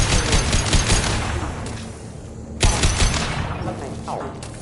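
Video game gunfire rattles in loud sustained bursts of automatic fire with a sharp break midway, while a voice shouts over the shooting.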